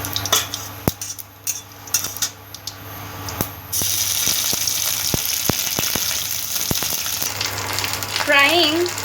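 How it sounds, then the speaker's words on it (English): Crushed ginger and garlic fry in a hot pan, a steady loud sizzle that swells partway through, punctuated by sharp utensil clicks against the pan. "Frying till the raw smell goes."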